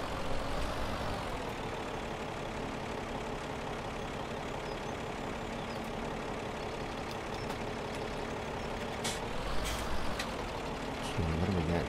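A tractor engine in the video game Farming Simulator 17 on the Podravina map: a steady, loud diesel drone that holds for about twelve seconds, with a short rise in revs near the end and no talk.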